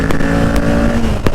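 Engine of a Kawasaki Ninja 650 motorcycle, a steady loud hum held close by throughout with a few sharp bursts on top, no talk.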